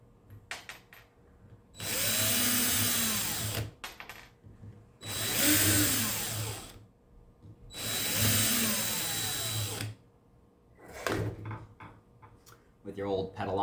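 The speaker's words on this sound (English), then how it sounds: "you're going to take out the 4 screws from the bottom." A power screw gun drives out four screws from the bottom of a Dark Monk lotus petal, heard as three loud, sustained whirring bursts of about two seconds each, then a shorter fourth, separated by brief pauses and small handling clatters.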